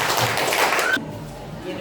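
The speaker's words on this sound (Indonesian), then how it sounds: "kita berikan tepuk tangan dulu untuk kelompok Bima" A classroom of students gives a short round of clapping for a presenting group; brisk hand claps for about a second, then the sound cuts off abruptly to quiet room tone.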